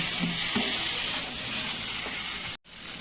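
Chopped raw tomato charchari with fried prawn sizzles steadily in a pan as a spatula stirs it, a close, even frying hiss with a few soft scrapes and a brief drop near the end.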